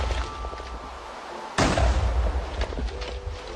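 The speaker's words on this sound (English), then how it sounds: "This is the Mortar Mark III, I think it was, but slightly changed for that little." A Mortar Mark III, a slightly modified mortar built in a Minecraft armour world, fires once with a sudden loud boom partway through, its rumble rolling on over steady game background noise.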